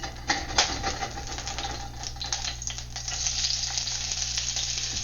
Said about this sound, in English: So you want to cook the onions until they're brown, just a light brown and kind of limpy, like caramelized